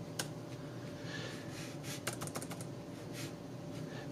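Quiet typing on a reMarkable 2 Type Folio keyboard case, a run of soft, fairly muted key clicks in irregular bursts with brief pauses, close by over a low steady background hiss, with no talking.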